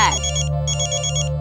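A phone ringtone plays as an incoming call arrives, a loud electronic ringing in two bursts with a brief gap between them, set over a steady background tone and heard alone with no talking.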